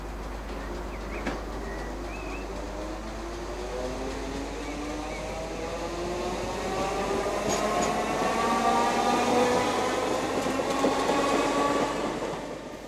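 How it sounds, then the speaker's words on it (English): A British Rail Class 315 electric multiple unit pulls into Edmonton Green Station, a steady hum and rolling rumble that swells toward the middle and fades slightly at the end, with no voices. "another of the Class 315s enters Edmonton Green Station"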